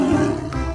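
A tiger in a 3D animal video game lets out a single loud, close roar that rumbles and then trails off.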